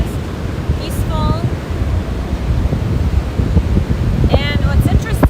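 Ocean waves breaking on a shore, a steady loud wash of surf with wind buffeting the microphone and a few bird chirps over it.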